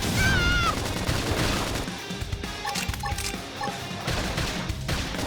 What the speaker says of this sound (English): Flame grenade!